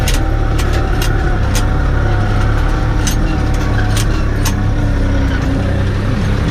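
A tractor engine drones loudly and steadily while working a field with a cultivator, a constant close rumble with occasional sharp rattles and knocks from the rough ground.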